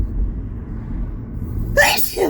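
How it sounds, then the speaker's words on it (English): A single sharp sneeze bursts out near the end, close and loud, after a stretch of low indoor rumble. "I'm gonna sneeze."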